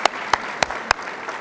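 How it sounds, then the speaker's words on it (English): At the close of a university provost forum, a few sparse claps ring out in an evenly spaced series of four sharp hits, then fade into quiet room tone. "Give yourselves an applause."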